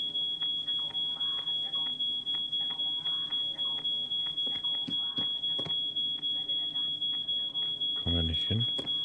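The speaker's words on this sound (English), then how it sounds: "We need to do something about that alarm." Smoke alarm sounding after toast burned, a steady high beeping tone running throughout with a faint pulsing, while people talk indoors under it in an escape-game setting.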